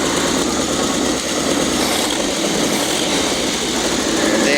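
A 1969 Ford F100 engine, freshly tuned with new plugs, points and coil, idles steadily with a loud, continuous broadband rumble, holding fairly even throughout with slight swells as it is given a little gas.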